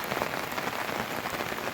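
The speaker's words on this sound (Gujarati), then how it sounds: "હજી વરસાદ પડે છે" Steady rain pattering on a hard surface, a dense even hiss of drops close by with no voices.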